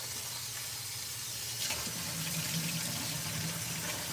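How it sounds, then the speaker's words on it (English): Tap water pours steadily into a bag of carrot chips being rinsed at a kitchen sink, a continuous close hiss that grows a little fuller partway through. "I'm gonna wash my carrot chips out. Some fresh water."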